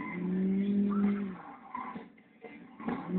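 Saints Row 2 game car driving with a loud steady engine drone that breaks into skidding tire squeals and bursts as the vehicle swerves, close and continuous with no talk.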